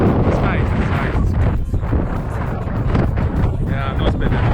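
Strong wind on Crete, Greece, roaring and buffeting hard against the microphone as a steady loud rumble with gusty swells, while someone talks through it.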